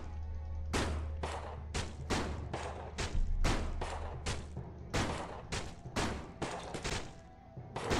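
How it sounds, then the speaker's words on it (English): Shotgun blasts in a zombie video game, a rapid run of loud, sharp reports at roughly half-second intervals, close and uninterrupted by talk. "Got the shotgun out again."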